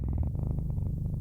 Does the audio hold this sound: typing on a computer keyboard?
no